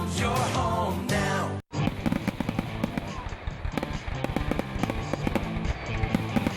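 Fireworks at a River Bandits baseball game in a radio advert: after a short opening burst and a brief gap, a rapid dense crackle of popping explosions continues steadily, loud and close.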